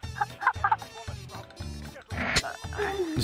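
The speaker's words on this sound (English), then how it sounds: "Punch it. Punch the chicken." Chickens cluck repeatedly in the video game Modern Warfare, in a choppy rhythm of short bursts under overlapping game noise and a voice.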